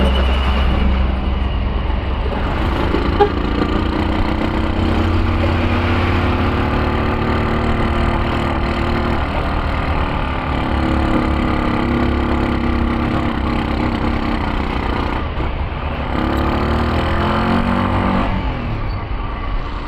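Trucks queue to climb a hill on a road in Central Java, their engines running in a continuous heavy rumble that stays loud and steady throughout.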